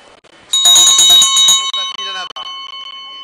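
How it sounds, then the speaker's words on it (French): A bell rings at a French bloodstock auction of horses, a bright sustained metallic ringing for about a second, loud and close, while an auctioneer's voice carries on over and after it. "On va arrêter la cloche."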